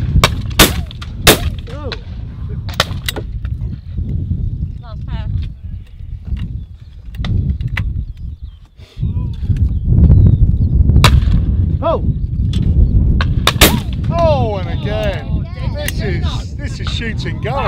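Sharp shotgun blasts at a sporting clays competition, the Beretta World Sporting 2023, crack out in several single and paired reports amid outdoor chatter, with people talking and calling around the shots.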